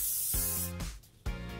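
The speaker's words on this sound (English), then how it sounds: "Take a little bit of spray. I like to use it on my hands first." Hair spray hisses from a can onto hands in two short, soft bursts separated by a quiet pause, close and with no talking.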